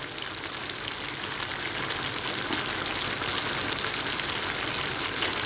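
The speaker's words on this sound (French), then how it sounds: "j'ai commencé d'arroser les artichauts farcis pour les imprégner de la sauce, comme ça" Sauce is spooned over stuffed artichokes simmering in a tagine, giving a steady, close bubbling sizzle with soft liquid splashes that carry on without pause.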